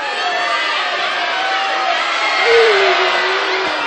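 A studio audience at a game-show pricing round shouts and screams together in a steady, continuous roar with no single clear voice.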